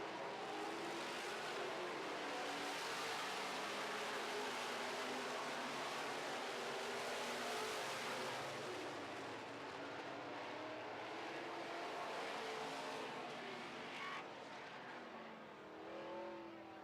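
Modified race cars roaring around a dirt oval, engines droning loud and steady as the pack circles the track, with no talk over the continuous rumble.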